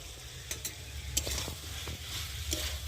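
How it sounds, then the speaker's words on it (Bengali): A spatula stirs fried cauliflower and potato in a sizzling pan, giving several quick scraping strokes over a steady low frying hiss, close up with no talking. "তো নেড়ে দিই খুন্তি দিয়ে।"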